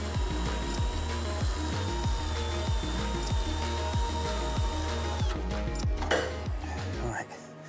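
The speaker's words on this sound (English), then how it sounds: "The difficult bit is using the spot welding drill tool to remove the corner strengthening sections." A spot weld drill cutting out the spot welds on a car roof's corner strengthening sections, a close, whining power-tool drone with a rapid ratcheting pulse that stops near the end.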